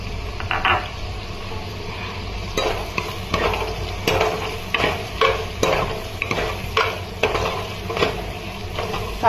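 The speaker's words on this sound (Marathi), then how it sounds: "कांदा गुलाबी होईपर्यंत व्यवस्थित परतून घ्यायचं." Finely chopped onions sauté in a pan with bay leaves and asafoetida for a spicy Malvani chicken, a constant close sizzle broken by repeated spatula scrapes and clinks against the pan.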